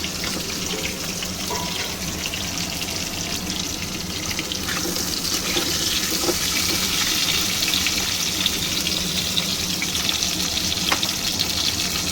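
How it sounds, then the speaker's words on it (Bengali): Eggplant pieces frying in hot oil tempered with black cumin, a steady, continuous sizzle and crackle at close range with no voices. "আর আমি বেগুনগুলো ছেড়ে দেবো, বেগুনগুলো ভাজবো।"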